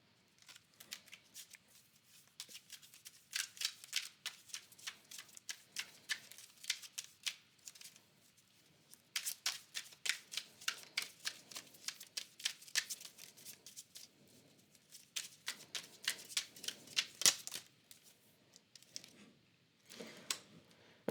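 Tarot cards being shuffled by hand, repeated crisp riffling bursts in several rounds with short pauses between, close and fairly quiet, no talking.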